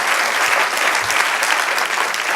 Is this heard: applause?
yes